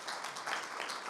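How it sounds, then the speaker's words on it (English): Church congregation at a Sunday celebration applauding its leaders, a brief dense burst of many hands clapping at moderate distance, steady and even with no voices over it. "give them a round of applause, please"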